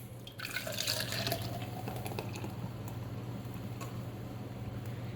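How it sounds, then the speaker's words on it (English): Coconut water drink with peach and kiwi is poured into a summer glass, a steady bubbly liquid trickle with a brief frothy splash near the start, continuing evenly over a low background hum. "we're going to just pour it into our glass"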